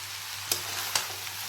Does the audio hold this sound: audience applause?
no